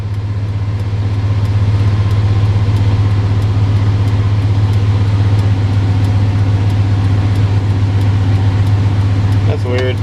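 The engine of a Chevrolet C1500 pickup truck runs at a steady idle with a loud, constant low hum, close by and unbroken throughout.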